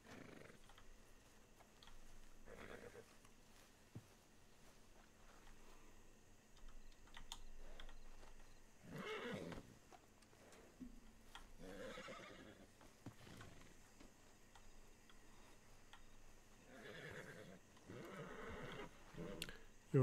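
In the Red Dead Redemption 2 Online video game, a horse whinnies and snorts in several short bursts, mixed with hoof clip-clops, keyboard typing and a quiet voice, all fairly faint.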